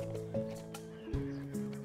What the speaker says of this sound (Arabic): هذا هاري، هاري الحصان